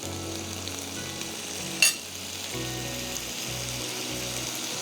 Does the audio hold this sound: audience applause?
no